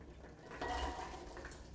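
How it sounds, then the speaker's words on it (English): Diced apples tipped from a container into a metal stock pot, a brief soft rush and clatter of pieces landing close by, then a low rattle as they settle. "So first I'm just going to dump the apple right in"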